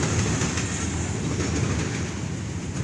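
Union Pacific 8676 freight train rolling through Effingham, Illinois, a steady loud rumble with rail noise and faint clickety-clack throughout, no voices.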